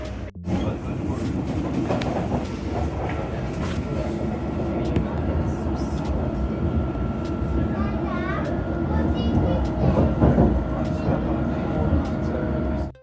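A London Underground District line train runs steadily near Ealing Broadway, a continuous loud rumble and rattle with a brief squeal partway through, under occasional talk.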